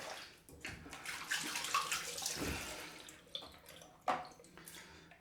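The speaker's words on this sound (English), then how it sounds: "The razor's already slippery now, just by dipping my hands in the soapy water." Hands dip and swish in soapy water during a wet shave, a close sequence of gentle splashes and sloshes with a few sharper drips, quiet and without talk.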